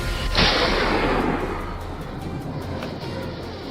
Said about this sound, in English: A rapid burst of gunfire followed.